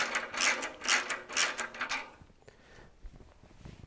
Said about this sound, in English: So let's start tightening these bolts, and then we're going to be all set.